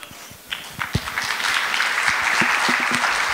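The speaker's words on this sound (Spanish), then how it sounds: "Démosle un gran aplauso a don Cristian." Applause from a crowd at a coffee pest and disease management talk builds after a few scattered claps, swelling into steady, sustained clapping that fills the room.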